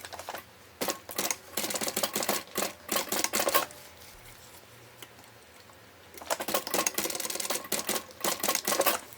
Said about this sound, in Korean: 가죽띠의 미싱을 바로 할 건데요